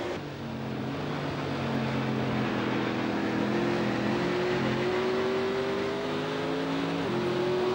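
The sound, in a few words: stock car engine in NASCAR 09 video game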